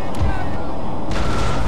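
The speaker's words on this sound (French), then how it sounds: "Putain, un boulet de canon, les mecs, ils tombent direct en déroute." Cannon fire in the strategy game Empire: Total War, heavy low booms from a battlefield artillery shot rumbling through about two seconds of dense, loud game noise.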